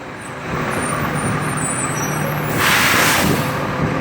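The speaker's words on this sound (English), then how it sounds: "Garbage truck." A garbage truck passes on a London street, its engine rumble swelling as it nears, then a loud hiss of air brakes releasing near the end, heard alone without any talk.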